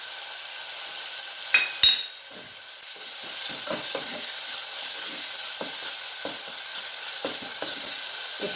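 Masala frying in a pan for a chicken curry, with a steady sizzle throughout and repeated soft scraping strokes of a spoon stirring it, plus a couple of brief clinks near the start.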